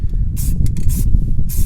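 Rust-Oleum primer-and-paint spray fogged onto a metal suspension drop bracket for a Jeep in three short, close hissing bursts separated by brief pauses.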